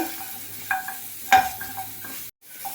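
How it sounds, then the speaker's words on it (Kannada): Green chillies, garlic, onion and curry leaves fry in oil for tomato chutney, giving a quiet sizzle with a couple of metallic spoon clinks and one sharper scrape, then a brief dropout. "ಹಾಗೆ ಮೆಣಸಿನ್ಕಾಯಿ ಹಾಕ್ಕೊಳ್ತಿದ್ದೀನಿ ಬೆಳ್ಳುಳ್ಳಿ ಆನಿಯನ್ ಕರಿಬೇವು ಇದನ್ನೆಲ್ಲ ಚೆನ್ನಾಗಿ ಕೆಂಪು ಕೆಂಪುಗಾಗೋ ತನಕ ಉರ್ಕೋಬೇಕು"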